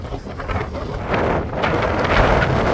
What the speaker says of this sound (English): It's snowing. It's a bit windy.